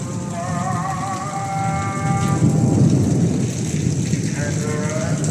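Heavy rain pours in Mecca, Saudi Arabia, a loud, dense hiss under a long, deep roll of thunder that swells midway and then fades.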